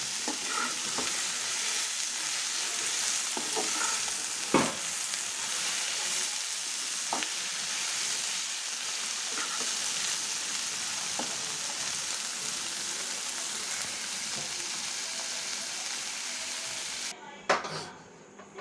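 Vegetable bhaji with shrimp sizzles steadily in a pan, a constant bright frying hiss with occasional scraping stirs of a spatula, close up and continuous with a brief clatter near the end.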